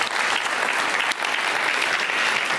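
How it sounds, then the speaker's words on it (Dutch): An audience applauds after a public lecture on sustainability, a dense, steady wash of clapping hands that stays loud and even throughout, with a brief dip partway through. "Nog één keer even applaus voor Jacob."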